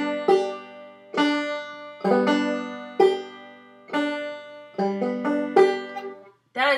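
Clawhammer banjo brush strums played wrongly in a slow, draggy way, each stroke rolling across the strings instead of sounding together; about seven separate ringing strums spaced roughly a second apart, close and clear, with no talking.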